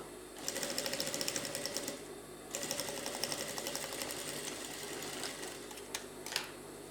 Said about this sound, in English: So after I'm done turning it, I'll top stitch on it again so that the pocket will be strong.